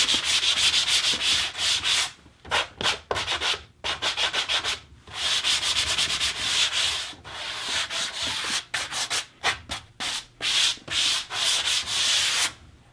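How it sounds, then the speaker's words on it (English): A manual sanding block rubs down pool table cushion rubber in quick bursts of harsh back-and-forth scratching, close by, with short pauses between strokes. "I like to give it one quick rub down with the manual block"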